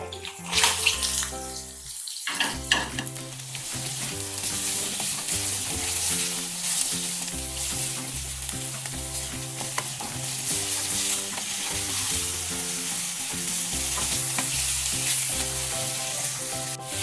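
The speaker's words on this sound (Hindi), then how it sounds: "5 मिनट हो गए तकरीबन इस तरह फ्राई करते हुए चिकन को।" Chicken fries in a pan for achar gosht, making a steady hissing sizzle that runs throughout under continuous background music.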